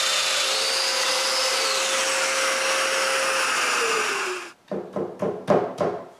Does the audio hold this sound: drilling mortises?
yes